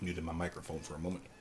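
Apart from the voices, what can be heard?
No everyday noises stand out.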